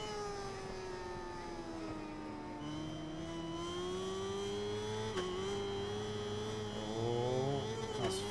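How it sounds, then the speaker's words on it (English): A motorcycle engine in RIDE 4 racing at Interlagos, its steady high-pitched drone climbing through gear changes and pinning near the rev limiter, sustained and moderately loud. "Just hit the rev limiter."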